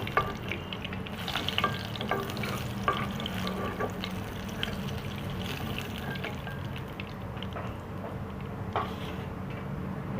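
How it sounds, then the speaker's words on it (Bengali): Pointed gourd (potol) fries in oil with a steady sizzle and scattered crackles and pops, along with intermittent scraping and stirring clatter close by. "পটলটা এতটাই ভাজা হয়ে গেছে, একটু ভালো করে ভেজে দিলে ওর ভেতরের যে জল অংশটা ওটা চলে যায়"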